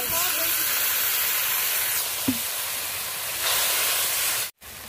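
Spice paste frying in hot oil for a Bengali mustard-oil fish curry, a steady broadband hiss and sizzle that fills the whole clip, with one faint clink midway and a brief drop near the end.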